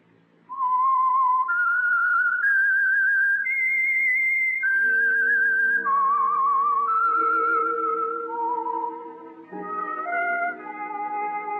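A clear, solo whistled melody, the theme of The Whistler radio program, moves through sustained stepped notes close and loud, with a lower accompanying tone joining midway.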